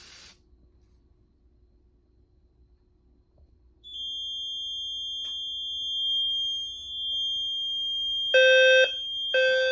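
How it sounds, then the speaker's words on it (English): A Notifier NFS-3030 fire alarm system sounds in a building: a steady, loud high-pitched electronic tone comes on after near silence and holds, joined near the end by short bursts of harsher pulsing signal. "The fire alarm has been activated in the building."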